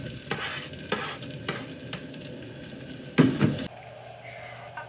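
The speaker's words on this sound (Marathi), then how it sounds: "कांदो व्यवस्थित भाजलो हा आता त्याच्यात टोमॅटो घालतोय" Onion and tomato sizzle and fry in a pan while a spoon stirs them in repeated scraping strokes, with a louder burst of frying about two-thirds of the way through; close and steady, no talking.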